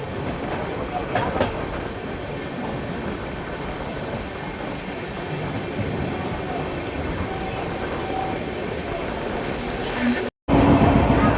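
The Mau Express passenger train (15026) runs at speed after leaving Aligarh Junction, with a loud, continuous rumble and rattle of the carriages and faint clickety-clack, heard from inside the train with a brief dropout near the end.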